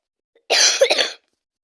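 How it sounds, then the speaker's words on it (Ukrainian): One short, sharp cough close to the microphone, with a quick double burst and silence before and after. "Я кашлю"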